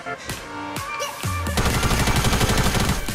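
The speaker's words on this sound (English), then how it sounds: "We have the tactical SMG now, guys, and it is back" Rapid bursts of tactical SMG fire in a video game, a few scattered shots at first, then a sustained loud rattling stream of gunfire up close with no talking.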